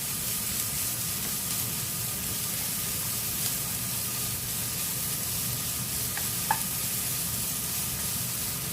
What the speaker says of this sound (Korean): 자 이렇게 야채들을 전부 다 어, 볶아주시면 되고요